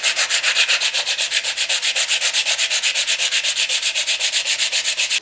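Steady rhythmic sanding of filler on a guitar body with 80 grit sandpaper, close and loud, with even back-and-forth strokes repeating several times a second throughout, no voices.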